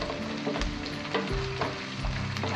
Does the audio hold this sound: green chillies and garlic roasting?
yes